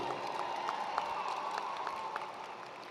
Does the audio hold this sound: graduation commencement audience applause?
yes